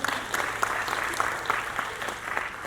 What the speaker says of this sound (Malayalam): ഈ ഗ്രൂപ്പ് മാത്രം കൈയടിച്ചു